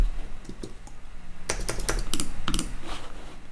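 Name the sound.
typing on a computer keyboard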